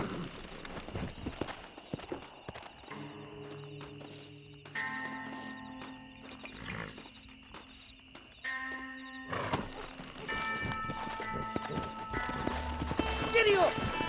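Horse hooves clip-clopping in the Western video game Red Dead Redemption, a rhythmic trot under a sustained music score, with voices talking over parts of it.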